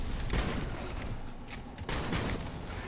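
Shotgun fire in the Evolve video game, heard as a dense, busy burst of booming blasts and mechanical clatter, loud and continuous with a slight dip before another surge.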